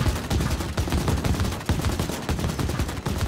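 Rapid gunfire in the Halo 5 custom game Devils Woods, a dense run of sharp repeated shots in quick irregular bursts, loud and close, with no talk over it.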